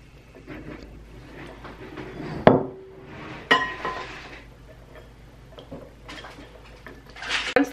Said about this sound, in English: Once that's all whisked, we're gonna add it into our kale and give that a stir.